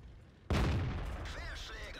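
A tank gun fires with a sudden loud boom in World of Tanks, playing a Tiger II, StuG III or Pz1c, followed by a sustained rumbling tail of game noise and a faint mechanical whine.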